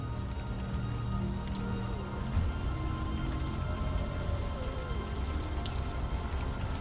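Steady rain falling in the video game Unavowed, a continuous soft patter and hiss with a low hum beneath it and no distinct single drops.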